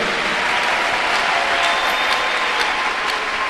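A church congregation claps in steady, dense applause throughout, close and continuous with no gaps.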